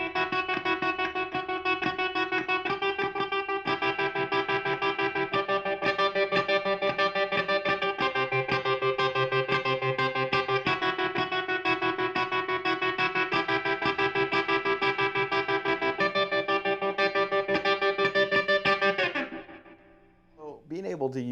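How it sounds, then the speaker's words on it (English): An electric guitar played through a pedalboard with a slow tremolo effect rings out sustained chords whose volume pulses gently and steadily, loud and close, before fading out near the end. "I really like to use tremolo. Tremolo's really cool, and what I've actually been using lately is a slow trem"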